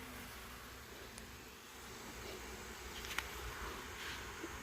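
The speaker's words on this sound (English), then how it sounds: "A lot of bees in there for this little tiny nuke." Honeybees hum faintly around a small nucleus hive, a soft, steady buzz with a few louder passes of individual bees close by.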